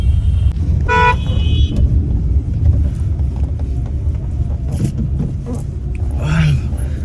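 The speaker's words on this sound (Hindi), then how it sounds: "traffic jam by the way, आज संडे है, लेकिन फिर भी ज़्यादा ट्रैफिक है आज" Car horn honks in heavy Sunday traffic jam on a city road in Jammu and Kashmir, with a rapid burst of toots early on over a steady near rumble of idling and moving vehicles, and a further honk near the end.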